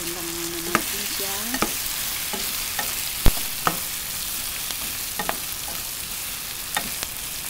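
Squid sizzles in a hot pan as it is fried, with scattered clicks and scrapes of a utensil stirring and turning pieces, steady frying hiss throughout.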